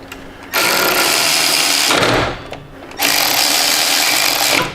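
A power tool running down the rotor bolts on a Harley-Davidson wheel, two loud sustained whirring bursts separated by a short pause, close by with no talk.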